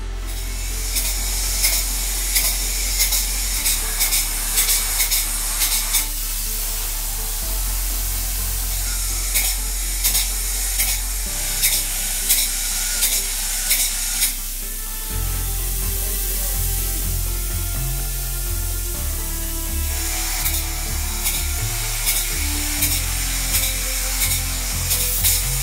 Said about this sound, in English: let's get into it. Let's spray some foam.